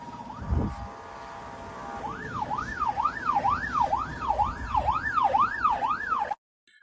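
A police car siren wails in a fast, rising-and-falling yelp close behind on a highway, loud over road rumble, then cuts off abruptly.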